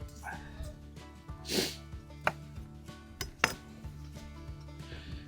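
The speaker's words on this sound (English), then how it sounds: "So all I do with the celery is take the ends off and the leafy bits, because I don't need them." A knife cuts celery on a board outdoors for a fire-cooked pasta bolognese, sharp scattered chops and clinks standing out close over a low background hum.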